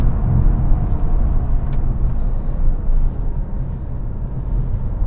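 A 2022 Mercedes-Benz C300 AMG Line driving on a road, a steady low engine and tyre rumble heard from inside with small thumps, no talk.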